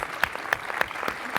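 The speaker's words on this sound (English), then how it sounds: "I think if we could all just give Charlene a quick round of applause." Brief applause from a conference audience, a short ripple of claps with a few distinct sharp hits, moderately close and fairly quiet.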